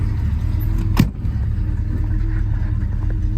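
A 1964 Chevrolet Malibu convertible rolls along a road, its engine a steady low rumble close by, with a brief sharp knock or clunk near the one-second mark and no talk.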